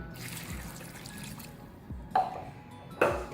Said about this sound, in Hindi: अब पानी शामिल करेंगे